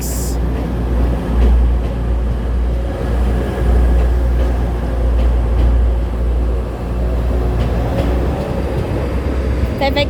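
A Class 185 passenger train idles at a station platform, a steady loud low rumble that holds throughout, with a brief brighter burst at the start and a clatter near the end.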